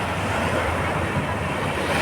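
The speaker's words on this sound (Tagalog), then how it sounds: "Ang tataas ng mga alon dito" Strong ocean surf roars continuously at Dolomite Beach, a dense wash of crashing waves mixed with gusty wind noise, loud and close.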